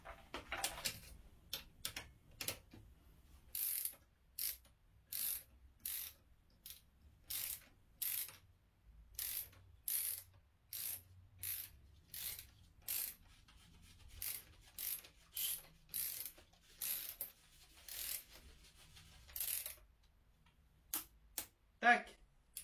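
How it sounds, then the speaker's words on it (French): A ratchet tightening the rear wheel axle nut of a Yamaha TTR 110 motorbike, close rapid clicking bursts in a steady repeated rhythm with short pauses between strokes, on a quiet background. "on va serrer notre axe de roue."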